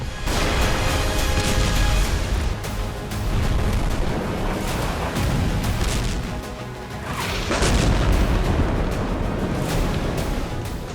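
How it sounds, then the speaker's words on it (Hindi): Explosions from Israeli Air Force bombing of Hezbollah air defense sites in northeastern Lebanon, heard as a continuous loud roar of booming blasts and crashing rumble across the whole stretch, with surges near the start and end. "उत्तर पूर्वी लेबनान में भी इजरायली एयरफोर्स ने जबरदस्त बमबारी की।"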